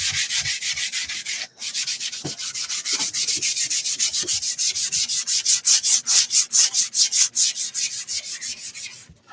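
Wood being hand-sanded to prepare for a wood-burned dog portrait: steady, close rasping strokes in a continuous rhythm, with a brief pause early on and more pronounced back-and-forth passes toward the end.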